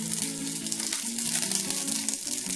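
Asparagus spears laid into a hot pan on a stovetop give off a steady, close crackling sizzle, with a low tonal hum running beneath it.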